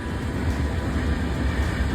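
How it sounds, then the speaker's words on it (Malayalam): A train runs past on a track near Kochi airport, a continuous deep rumbling roar with a low hum, steady and fairly loud throughout with no voices. "ഒരു സൈഡിൽ കൂടി ട്രെയിൻ പോണു"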